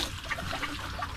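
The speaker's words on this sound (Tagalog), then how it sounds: "Nag-anol ako ng tubig dito sa may balde." Water pours and trickles into a bucket set out for goats to drink, a short soft splashing and dribbling heard close up without speech.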